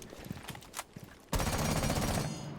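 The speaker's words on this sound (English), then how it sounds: "I cannot control Twitch's recoil." Gunfire from Twitch's weapon in Rainbow Six Siege: a few scattered quiet shots, then a sudden loud sustained automatic burst that runs to the end.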